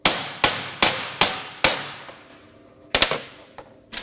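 Sharp metallic hammer blows ring out on an oil pump of a Ford/Mazda 2.3L MZR engine, five evenly spaced strikes followed by a pause and a few more irregular hits, each with a short ringing decay.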